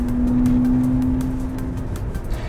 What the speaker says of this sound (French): on a également un son artificiel à l'intérieur qui donne l'impression d'avoir un véhicule thermique